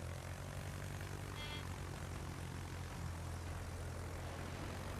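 Rocket planes droning in the World of Warships video game, a steady low propeller-engine hum that stays constant and fairly faint throughout, with no talk.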